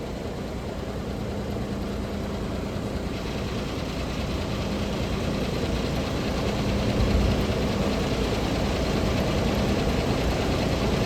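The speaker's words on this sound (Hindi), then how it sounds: "सीधी चढ़ाई है एक तो, और मलबा ताज़ा गिरा हुआ है, कच्चा है ना, उसमें टायर फ्री घूमते हैं वो देखो" A car engine labours in first gear up a steep slope of freshly fallen loose rubble on a North Sikkim mountain road, tyres spinning free; a loud, continuous, close roar with no voices.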